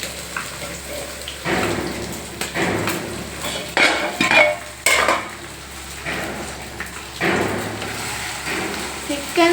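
Pot lid lifted and a spoon stirring Pallipalayam chicken in a clay pot, irregular metallic clatters and scraping knocks, with a person talking over the kitchen sounds.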